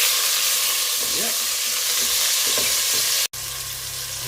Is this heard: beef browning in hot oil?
yes